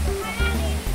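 Waterfall pouring down at a cave entrance near Wat Rong Khun in Chiang Rai, a loud steady rushing wash of water filling the short moment.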